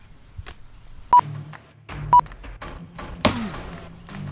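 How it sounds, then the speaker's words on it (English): A stone tomahawk's backside strikes a skull's frontal bone in a few sharp, hard knocks, the last a loud crack with a brief ringing tail, alone in a quiet setting. "I'm going to take the backside and hit it against the frontal bone and see what that does"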